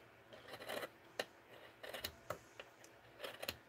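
Paper being trimmed to size for a mixed-media art piece, with faint, close snips and rasping cuts coming in irregular bursts in a quiet room.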